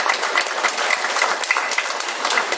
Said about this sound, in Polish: Także brawa, bo jest bardzo ładna dekoracja.